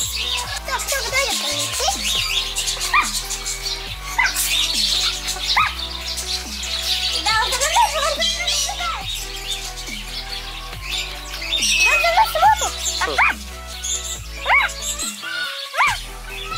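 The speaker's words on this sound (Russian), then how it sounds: "Попугай-бандит?" A parrot at a crocodile farm in Israel gives repeated shrill squawks and chirps in uneven bursts, close and fairly loud, mixed with other bird sounds and background voices.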